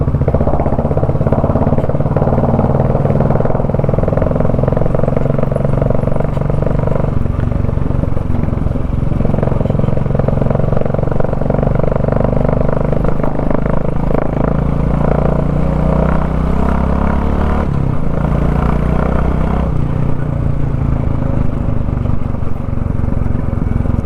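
A 2024 Royal Enfield Bullet 350 with a modified silencer rides through a small village, its exhaust a steady, loud, continuous thump that stays close for the whole stretch, with no voices.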